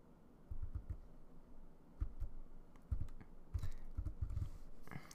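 Computer keyboard on a Linux machine being typed on with a terminal command, short bursts of clicky keystrokes in uneven clusters, fairly close and quiet, with a faster flurry near the end.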